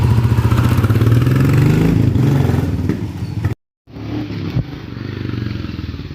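A 2025 Royal Enfield Classic 350 motorcycle rides past close and loud with a thumping engine note, cuts out abruptly, then resumes at a slightly lower, steadier rumble.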